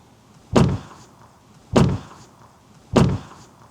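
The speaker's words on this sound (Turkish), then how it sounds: "Şimdi bakın arabanın kapı tokluğu sesi." Three solid Tesla Model Y Juniper car door thuds, evenly spaced about a second apart, each a deep close slam with a short ring-out and quiet between.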